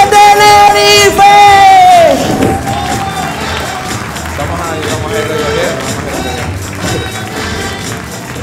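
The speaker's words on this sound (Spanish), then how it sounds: "quiero pedir otro fuerte aplauso para el gran David García" Audience at a comedy show in Santa Cruz de Tenerife cheering and applauding comedian David García, a dense crowd roar of clapping and shouts after a host's amplified voice trails off at the start.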